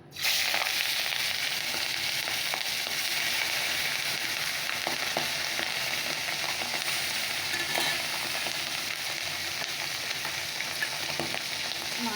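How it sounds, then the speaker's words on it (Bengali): Bata fish, coated in salt and turmeric, fry in hot oil with a loud, continuous, crackling sizzle that bursts in at once and holds steady throughout, dotted with small pops and spatters. "কড়া তেল দিয়ে দিয়েছি তো চলো মাছগুলো ভেজে নেই"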